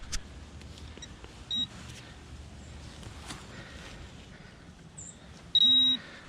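Metal detector sounding off over a buried target on a path near an old latrine site, giving short tonal beeps, one brief near 1.5 seconds and a louder sustained tone near the end, over quiet outdoor ambience.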